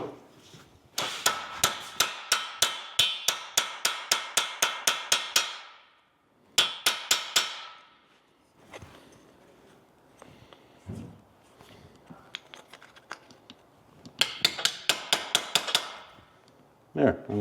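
Rapid runs of sharp metallic hammer taps strike the front edge of a 1970 Chevelle convertible hood, coming in fast rhythmic bursts of a dozen or more blows with brief pauses and softer scraping between them.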